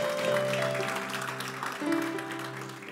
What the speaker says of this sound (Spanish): Denle un aplauso fuerte al Señor porque Él es bueno.